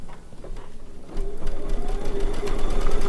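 An embroidery sewing machine stitches applique steadily, its rapid mechanical stitching growing louder and busier after the first second, with no voices.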